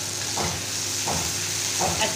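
Roasted arbi is stirred into sizzling fried masala in a pan, three distinct spoon strokes about 0.7 seconds apart over a steady, close sizzle, with no talking.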